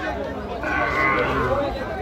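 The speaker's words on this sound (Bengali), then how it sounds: "বিশাল বড় একটি পাগলা গরু" A large cow lows loudly and close at Gabtoli cattle market, one drawn-out moo over murmuring crowd chatter.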